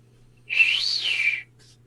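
A single sustained whistle blast lasting about a second, rising slightly in pitch in the middle then settling, loud and clear over a faint steady hum, during a tabletop role-playing game session.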